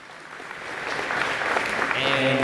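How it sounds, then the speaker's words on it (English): Applause from the audience at a high school awards evening, rising steadily over a couple of seconds as the crowd joins in, with a voice starting to speak near the end. "Let's give a big round of applause for all of these individuals"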